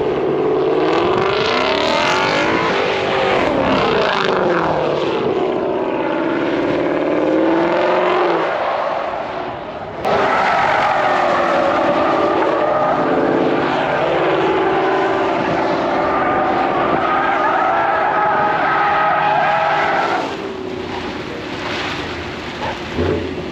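A Ford Mustang spins donuts on an airstrip, its engine roaring loud and close with tires screeching continuously, the revving rising and falling in sweeping waves throughout.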